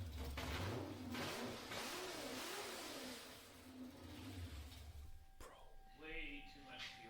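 An LS V8 car engine running rich revs up and down in rising and falling surges, loud and close, while people talk over it.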